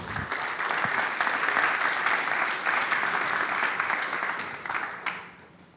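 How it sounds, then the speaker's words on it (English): A roomful of people applauds at a startup selection day opening, loud continuous clapping that holds steady for about five seconds before tapering off at the end. "big round of applause for a newest member of the community"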